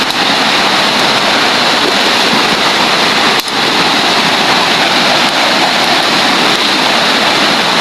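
Water rushes steadily in a stream during a trip with friends, a loud, close, unbroken roar that stays constant with one brief dip.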